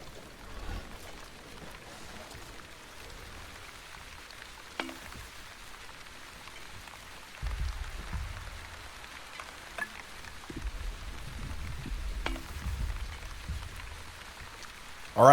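Rain in The Wandering Village city-builder game, a soft steady patter with a faint low background, growing a little heavier midway, with a few small clicks and no talking.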